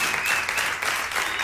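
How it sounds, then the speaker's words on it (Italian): A crowd applauds steadily at an Italian local TV music show, a dense wash of clapping hands filling the whole moment without a break. "Applausi."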